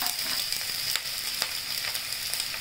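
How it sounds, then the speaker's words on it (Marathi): Onion frying in oil in a pan while making a kohlrabi (navalkol) vegetable dish, giving a steady close sizzle with faint crackles and a few stirring clicks, with no talking. "कांदा टाकूया तेलात"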